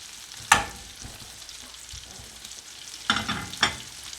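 Garlic butter shrimp sizzle faintly in a pan, a low steady frying hiss broken by a few sharp clinks and scrapes as the pieces are lifted out, with no voices.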